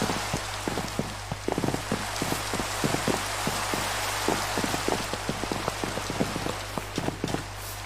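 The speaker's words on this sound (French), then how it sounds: "t'as vu, c'est bizarre, il pleut pas partout" Rain falling in a video game, a constant loud hiss of rain over a low steady hum, broken by many short, irregular taps of drops hitting surfaces.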